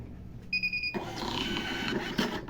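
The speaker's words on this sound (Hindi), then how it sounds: "इसका प्रिंट ब्लैक कॉपर BC85AC पर लेते हैं" BlackCopper BC85AC thermal receipt printer printing a sales invoice: a short beep, then a steady mechanical whir of printing and paper feed that runs on close and moderately loud to the end.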